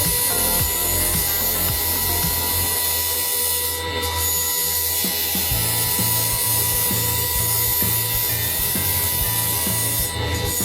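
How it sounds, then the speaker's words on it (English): Production-line machines drill and shape raw wood logs into spoons, giving a continuous rasping, grinding mechanical clatter with repeated scraping strokes over a steady low machine hum, loud and close with no talking. "Starting from raw wood logs, they are drilled and shaped into beautifully finished spoons."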